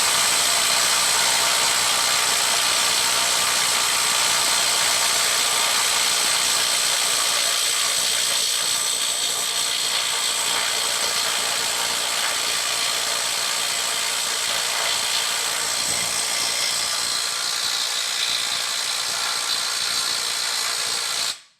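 A Makita 18V brushless right angle impact wrench runs on a fastener at 400 foot-pounds in one loud, steady, hissing burst of rapid hammering that lasts about twenty seconds and then cuts off abruptly.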